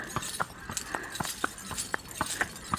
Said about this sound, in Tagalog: First time ko sumakay sa kabayo, guys. Sakay kami ni Ali sa kabayo.